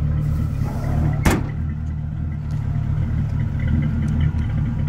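A car engine idles with a steady low rumble, close and fairly loud, with a brief sharp clack near the start.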